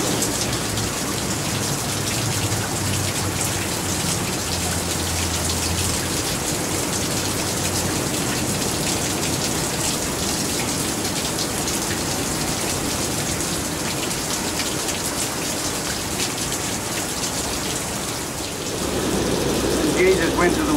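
Steady running water pours continuously, a broad dense wash close by that holds level for the whole stretch, with a brief change in texture near the end.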